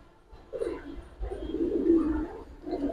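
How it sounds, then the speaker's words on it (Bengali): Pigeons coo in soft, low, throaty murmurs, a few overlapping calls rising and falling at moderate distance. "দূরে দেখা যেতেছে কবুতরগুলো"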